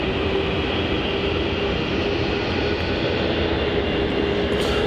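A Jetstar A321neo airliner at Melbourne Airport gives off a loud, continuous broadband engine roar with a steady hum, filling the whole stretch without a break.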